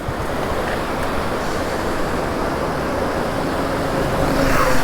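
Heavy waterfall flow at Monkey Falls (Kaviaruvi) after rain, a dense steady roar of pouring water that stays loud and unbroken throughout, with no voices over it.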